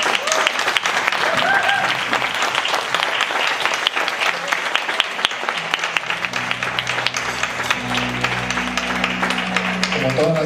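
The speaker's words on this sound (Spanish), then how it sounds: "¿Alguien puede dar un fuerte aplauso a los novios?" Strong applause for the bride and groom at a church wedding, dense clapping from a crowd that carries on while a low hum or music fades in partway through.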